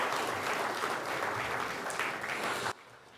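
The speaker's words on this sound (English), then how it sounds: "Give yourself a round of applause." An audience at a college senior sports awards ceremony applauds in a steady, dense wash of clapping that stops abruptly near the end.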